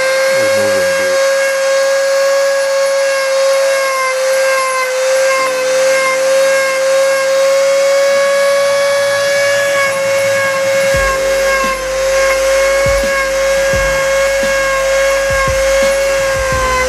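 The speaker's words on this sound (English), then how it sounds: "So the work of the straight grinder is for removing this." A straight grinder working material off a sculpture gives a loud, continuous high-pitched whine with a steady hiss, running throughout with a few low knocks and thumps underneath.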